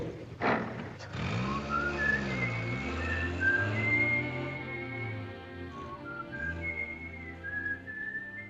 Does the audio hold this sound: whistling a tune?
yes